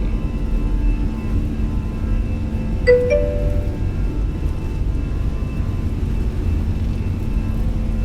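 Airbus A320 engines spool up on the takeoff roll in a flight simulator as a steady, loud, broad roar with faint tonal whine, and a short chime sounds briefly partway through.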